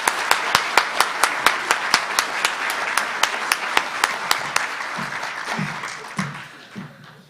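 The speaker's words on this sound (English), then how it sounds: "Can I have one more round of applause for our 3 honorees this evening?" Audience applause for three honorees at a university College of Education awards evening, a steady round of rhythmic clapping that thins and fades toward the end, with a few low voice-like sounds near the close.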